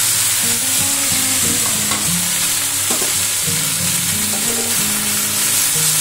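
Boiled potatoes being stirred into okra frying in a pan, a steady loud sizzle with repeated scraping strokes of the spoon, close by and with no talking.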